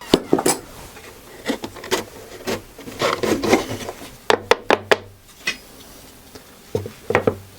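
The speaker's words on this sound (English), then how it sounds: "I'm using a scrap piece just to make sure the cut is going to be in the right place." Rough, irregular rasping and scraping strokes as a scrap piece of timber is cut in a workshop, with sharp clustered bursts and short pauses between them, close and fairly loud.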